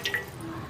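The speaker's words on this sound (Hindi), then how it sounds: "तो सबसे पहले आप यहाँ पे एक पैन ले लीजिए और इसके अंदर आप ऐड कर दीजिए अपने बालों के हिसाब से पानी।" Water pours into a cooking pan for a homemade hair-oil recipe, a brief trickle and splash of liquid with a couple of small drip-like accents, close and fairly quiet.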